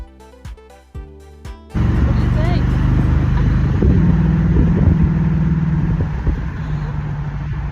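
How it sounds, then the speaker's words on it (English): A 1967 Pontiac Firebird convertible with the 400 V8 and dual exhaust drives along: a steady, loud engine drone under music for most of the stretch, after a brief musical intro. "a early Gen 1 Firebird convertible powered by the legendary 400"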